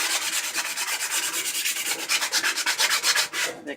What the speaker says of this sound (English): I'll just take a piece of sandpaper and keep rubbing it across for a little bit.